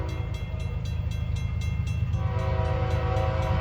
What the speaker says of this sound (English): There's the horn. There it comes,